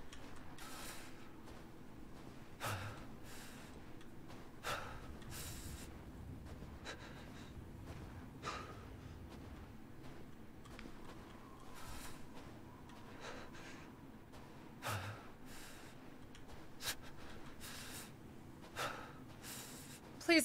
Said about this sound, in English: Please stop breathing so hard.